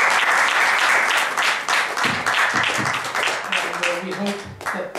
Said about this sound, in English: Another round of applause for Mehram and for you.